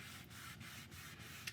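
A wet towel is wiped across a floor to neutralize a chemical stripper, producing a soft continuous rubbing swish with a few faint pauses, quiet and close.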